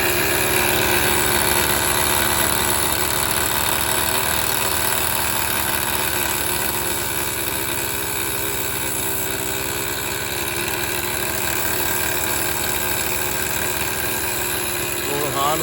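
A homemade motorcycle engine runs continuously, giving a loud, steady idling rattle and drone with little change in pace throughout.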